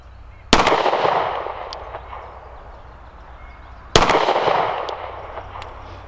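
Rock Island Ultra 10mm double-stack pistol fired at an outdoor range, two sharp loud shots about three seconds apart, each followed by a long ringing echo.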